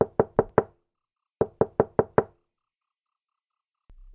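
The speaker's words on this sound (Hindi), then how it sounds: "दरवाजा दोबारा से खटखटाया जाता है।" Knocking on a door at night in a small village, two quick bursts of five sharp close raps, with a steady high insect-like chirping pulsing in the background throughout.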